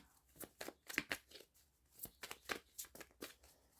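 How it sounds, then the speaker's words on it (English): A deck of tarot cards is shuffled quickly by hand in a quiet room, giving a run of short, faint riffling and flicking bursts in an uneven rhythm. "Let's give it a quick shuffle."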